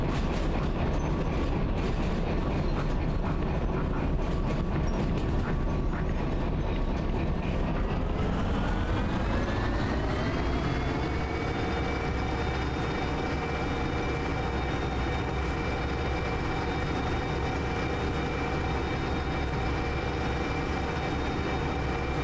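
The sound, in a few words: ST44 train coasting over tight curve, Derail Valley video game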